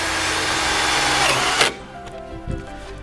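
A power drill drives screws into a handrail wall return, a loud continuous whirring drive that cuts off abruptly, followed by a brief clunk.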